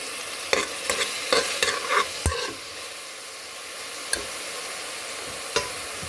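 Fried meat with tomato sizzles in a pan and is stirred, with a run of quick scraping clatters early, then a steady hiss and two isolated knocks later.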